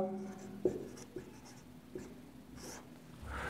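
Chalk or marker scratches and taps across a classroom board during a geography lesson, producing faint irregular strokes and light knocks in a quiet room.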